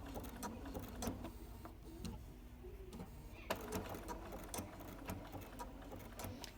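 A Bernina 770QE sewing machine stitches appliqué around a tight curve, giving a quiet, steady run of needle clicks with short stops and restarts as the fabric is turned.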